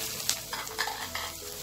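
Softened onions with freshly added garlic frying in a pan, a steady close sizzle with scraping stirring strokes.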